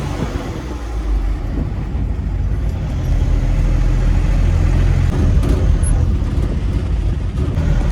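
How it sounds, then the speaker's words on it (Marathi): Car cruising on the Mumbai-Delhi expressway, a loud steady engine and road-noise drone with wind rush building slightly and holding constant, no talk. "आता फर्स्ट टाइम मी मुंबई दिल्ली हायवे वरती गाडी चालवणार आहे."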